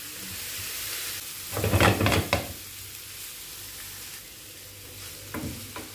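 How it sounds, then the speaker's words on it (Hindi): Stirring lemon juice into sizzling tawa chicken on a hot griddle, with a burst of scraping and stirring over a steady low fry sizzle and a couple of brief spoon knocks near the end. "अब मैं इसमें शामिल करूंगी 1 टेबलस्पून लेमन जूस। इसको अच्छा सा मिक्स करेंगे।"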